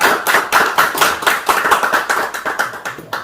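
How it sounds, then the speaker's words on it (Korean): Audience at a Korean regional development panel discussion applauds a guest being introduced, a steady run of close, dense hand claps lasting a few seconds with no talk over it. "박수로 부탁드립니다."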